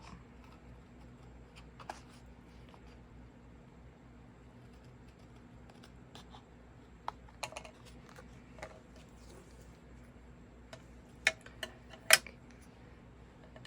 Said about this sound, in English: Then I'm going to take my scissors and I'm going to cut it out.